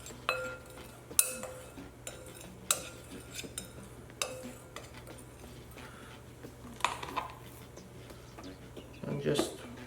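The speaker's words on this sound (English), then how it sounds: "Mix it together." Ingredients being mixed with salt in a bowl for chicken piccata, with soft clinks and taps of a utensil against the dish scattered across a quiet background, close and faint.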